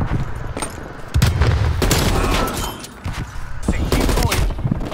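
Sniper rifle shots and other gunfire crack in Black Ops Cold War, a combined-arms online match, with repeated sharp bursts and booms over continuous battle noise, loud and close, while a player talks.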